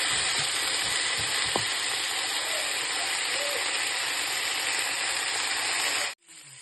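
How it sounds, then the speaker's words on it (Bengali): Potato and cauliflower frying in a pan with ground spices; loud, continuous sizzling with a couple of faint utensil knocks early on, cutting off abruptly near the end, no talk. "একটু ফ্রাই করে নেব প্রায় 2 মিনিট মতন"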